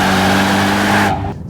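A Mercedes-AMG E63 S with a 4-litre twin-turbo V8 roars under hard load, a loud, close, sustained engine note with tonal harmonics that cuts off abruptly after about a second.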